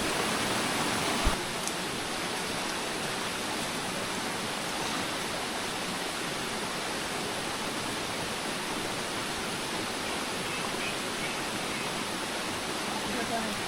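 A forest waterfall and rocky stream along a hill trail in Rangamati give off a constant, dense rushing hiss that holds steady throughout, with one brief knock early on.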